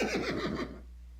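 A half-zebra horse in the video game Boot Hill Bounties gives one clear whinny of rapid wavering pitch, loud and close, then fades out into near silence.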